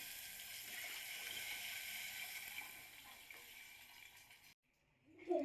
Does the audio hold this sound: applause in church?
no